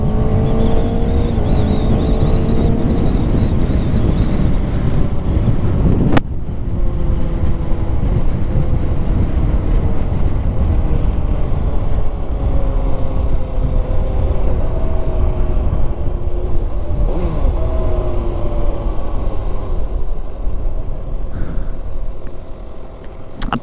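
A 2025 Kawasaki Ninja ZX-6R 636cc supersport motorcycle engine on the move, loud and steady, with rising and falling revs and gear changes heard through heavy wind rush, no talking.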